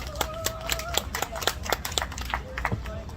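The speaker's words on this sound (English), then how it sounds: "Let's give them both a round of applause." Scattered claps from a small audience at the 2022 Folklife festival, sharp uneven hand slaps spread across a few seconds, heard close over a steady hum with a voice carrying on throughout.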